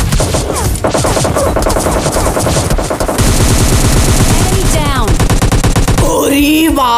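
PUBG Lite gunfire: loud, close, sustained automatic bursts with rapid repeated shots, several overlapping weapons, and brief pauses between volleys.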